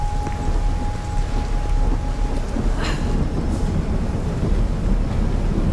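Heavy rain pours steadily with a deep rolling rumble of thunder underneath, a dense and continuous storm ambience in the horror game The Medium, with no talking.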